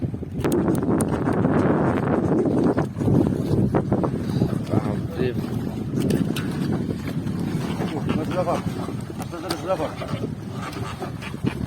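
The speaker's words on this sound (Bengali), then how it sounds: "প্রচণ্ড ঢেউ মানে হাওয়া একটু হচ্ছে আর খুব শব্দ হচ্ছে" Strong wind buffets a small fishing boat rocking on choppy river waves in the Sundarbans, with loud gusty rumble and wind noise on the microphone, splashing water and voices partly audible under it.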